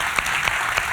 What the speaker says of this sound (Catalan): doneu-vos un aplaudiment per vosaltres, sisplau